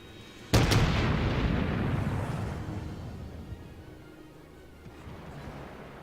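A naval gun broadside from the Japanese cruiser IJN Chikuma in World of Warships booms out once, loud and sharp, then rolls away into a long fading rumble, with a faint distant thump near the end.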